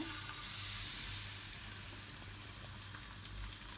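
Crepe batter sizzles in a hot pan with a steady, close frying hiss that carries on evenly throughout, with no voices.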